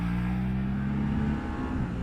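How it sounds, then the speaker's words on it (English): A Harley-Davidson Pan America motorcycle engine holds a steady, droning rev with a strong low hum, sounding like a sustained run under acceleration rather than sharp blips, with no talk. "But that motor needs a few revs before it starts hauling."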